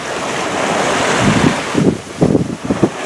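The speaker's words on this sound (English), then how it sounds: "So if you hear that, that means we are totally sailing on the Atlantic Ocean." Ocean waves wash and wind roars around a sailboat under full sail on the Atlantic between Fort Lauderdale and Bimini, a loud, steady rush with irregular splashing surges of the hull toward the end.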